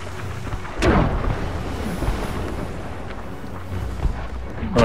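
Cannon fire heard from aboard a sailing ship sounds as a deep, rumbling boom that rolls out and decays over a few seconds, followed by a second fainter thud.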